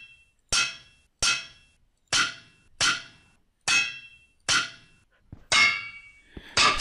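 A hammer strikes metal in the medieval smithing game Medieval Mastery, eight loud, sharp clangs at a steady, unhurried pace, each ringing briefly before the next blow, with no talk.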